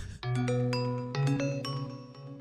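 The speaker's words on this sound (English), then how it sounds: "Just a bell with some echo on it." A bell sound effect called Gender 3D, with several bright struck tones ringing out in layered, echoing succession, each strike sustaining and overlapping the last at a steady, fairly loud level.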